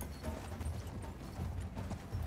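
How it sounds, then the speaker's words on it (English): Horse hooves galloping in the Battlefield 1 video game, a steady rapid clip-clop drumming close and loud throughout, with no talk over it. "Does my horse not know how to run?"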